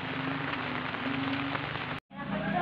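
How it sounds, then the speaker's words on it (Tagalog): Steady overnight rain falling on a farm with vegetable plots and rice fields, a dense continuous patter close by, briefly cut off by a short gap before resuming. "update lang po natin ulit mamaya po yung atin pong mga gulay kapag tumigil na po itong ulan"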